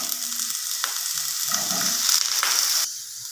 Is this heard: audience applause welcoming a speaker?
no